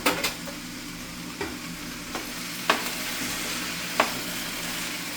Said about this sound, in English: I'm going to pour the sauce in now